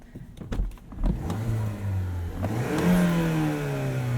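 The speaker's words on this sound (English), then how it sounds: "as you can probably hear, this has a turbo." A turbocharged 2019 Mazda CX-5 Signature all-wheel-drive SUV engine revs and accelerates with a rising whine, pulling strongly through gears, close and steady.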